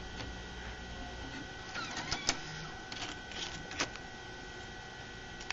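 A floppy disk drive crunches on a hammer-damaged disk, giving faint irregular clicks, ticks and scraping seeks over a steady mechanical hum.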